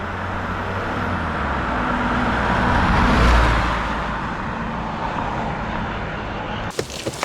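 A Daihatsu Fourtrak Rocky drives along, its engine and road noise forming a loud, continuous rumble that swells and eases, ending in a few knocks and clicks.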